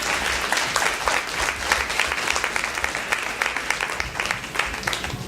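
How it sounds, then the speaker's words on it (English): Steady applause from an audience at a library tea party event, many hands clapping in a continuous, even roar that carries on at a constant level from start to finish. "Can we give her another round of applause?"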